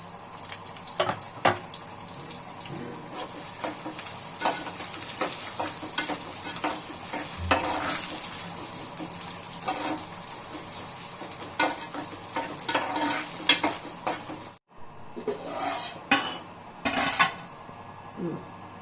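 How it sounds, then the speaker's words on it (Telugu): Onions frying with cumin in a pan, a steady sizzle with repeated scraping and clinking of a spoon stirring against the metal, close and fairly quiet, with no talking. "జీలకర్ర వేసాం కదా ఆనియన్స్ దూరగా వేయించుకుందాం"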